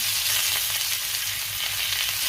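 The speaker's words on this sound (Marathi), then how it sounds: "आता हे 2 मिनिटं मी व्यवस्थित परतून घेणार आहे" Chole masala with dried coconut sautéing in a pan, giving a steady close sizzle and crackle throughout with faint stirring, no voices.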